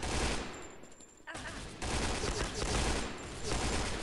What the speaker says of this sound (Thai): โอ้โหใครเขายิงรัวขนาด